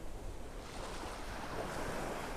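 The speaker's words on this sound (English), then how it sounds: "let you take in the sounds of the waves" Ocean waves wash onto a beach in North Naples, a steady rolling surf with a broad hiss and some wind rumble, continuous and fairly close, with no voices.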